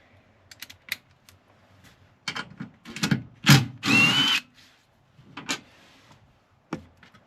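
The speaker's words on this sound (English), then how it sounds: "we'll take that 12 socket and take those bolts off" Seat bolts on a Mercedes Sprinter van swivel-seat install being backed out with an E12 socket, heard as a series of short ratcheting and clicking bursts with one longer whirring spin near the end, close and otherwise quiet.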